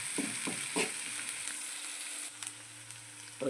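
Onion sizzling and frying in a pan as the base for a tomato egg curry, a steady hiss throughout with a few sharper crackles and stirring knocks near the start.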